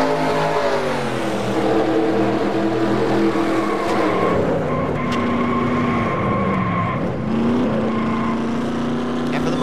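Race cars in a NASCAR-style video game at Talladega wreck and spin, a steady loud roar of engines with pitch sweeping down and back up as cars slide and scrape, continuous through the whole stretch.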